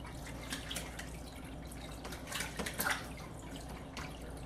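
Aquarium gravel vacuum siphon pulls water through its tube with a close, trickling, gurgling flow, steady with small splashy bursts, and no voices.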